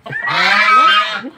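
A single loud, drawn-out goose honk close by, nasal and wavering, lasting just over a second.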